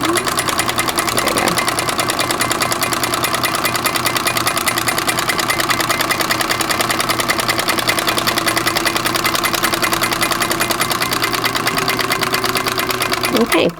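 A sewing machine stitches a McCall's 7950 sundress, whirring steadily and loudly at close range for the whole stretch with a fast, even mechanical hum.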